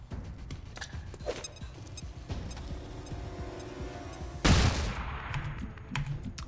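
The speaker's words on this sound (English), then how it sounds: "Flashbang!" A flashbang grenade goes off in the XCOM 2 video game as one sudden loud burst with a hissing tail, following a stretch of quieter ticking game noise.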